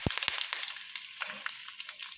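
Curry leaves and dried red chillies sizzling in hot tempering oil for a chilli pickle, a soft crackling fry with a couple of sharp pops at the start.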